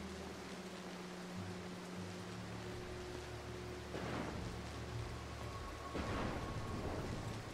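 Steady rain hisses through a thunderstorm in the video game Mark of the Ninja, with two thunder cracks about two seconds apart over a low droning background. Faint and continuous, no voices.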